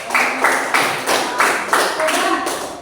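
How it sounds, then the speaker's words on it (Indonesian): A seventh-grade class claps together in a quick, steady rhythm, a run of evenly spaced group bursts close by in the classroom. "Tepuk tangan buat coba"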